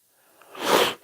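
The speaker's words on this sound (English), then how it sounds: "Gesundheit." A single close, loud sneeze, building briefly from a faint intake of breath into a sharp burst.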